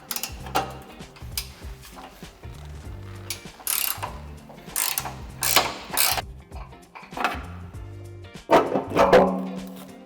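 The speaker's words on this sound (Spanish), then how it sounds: "En este tornillo, que es el último que nos falta por aflojar, podemos hacerlo con la misma llave." A wrench loosens the last bolt beneath the heat shield of a 2019-2022 Mercedes-Benz GLC X253 during a tow hitch installation, giving close, repeated ratcheting clicks and metallic knocks in uneven bursts with no talking.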